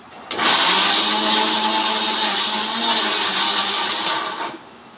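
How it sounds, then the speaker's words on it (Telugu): A mixer grinder whirs loudly and steadily for about four seconds while grinding juice ingredients with water, starting abruptly and cutting off near the end, with no talking. "అన్నీ గ్రైండ్ చేసుకోవాలి."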